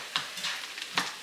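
Frozen peas and carrots sizzle in a hot pan while being stirred, giving a few short scraping, crackling bursts close up over a steady fry.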